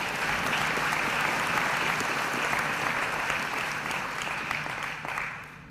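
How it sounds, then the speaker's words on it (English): An audience at a university graduation ceremony breaks into a sustained round of applause, a dense, even wash of clapping that holds steady and then begins to thin out near the end. "Can we give her a round of applause?"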